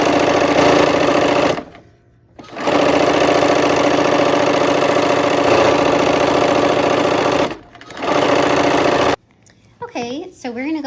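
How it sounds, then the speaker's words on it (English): A sewing machine stitching a quarter-inch seam on colorful fabric, a loud, steady rapid whir that stops briefly twice, then a voice speaks at the end. "we're gonna go ahead and sew these on with a 1/4 inch seam"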